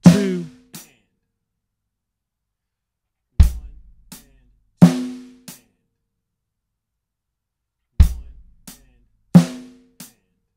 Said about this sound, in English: we play straight eighth notes on our hi-hat with our dominant hand.